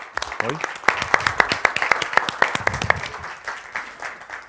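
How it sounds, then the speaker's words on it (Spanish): Audience applause at a cybersecurity talk, with many sharp, dense claps, loudest at the start and thinning toward the end; no one speaks. "Así que con un aplauso recibimos a Martín Tartarelli."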